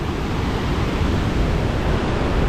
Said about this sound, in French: on se retrouve avec des cascades très larges, donc c'est quand même assez impressionnant